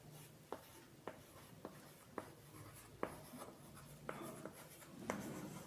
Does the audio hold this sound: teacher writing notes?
yes